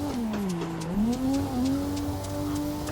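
A car slides sideways in the driving game Assetto Corsa while its engine holds a steady wavering drone, a faint tire squeal riding over it, close and continuous.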